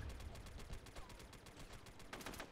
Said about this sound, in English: Dude, I shot the guy who was ever behind you.